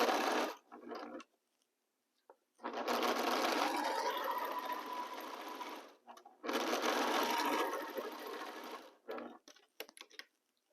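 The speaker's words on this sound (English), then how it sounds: "Start sewing." A sewing machine stitches a quilt block in two long bursts of fast, even whirring, with short pauses and brief stop-start runs between them, close and moderately quiet.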